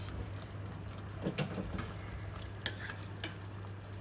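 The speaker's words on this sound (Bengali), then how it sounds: "কর্নফ্লাওয়ার দেওয়ার পরে কিন্তু অনবরত নাড়তে হবে" A sweet-sour prawn sauce thickened with cornflour is stirred steadily in a pan, giving faint scraping and soft sizzling with a few light clicks over a low constant hum.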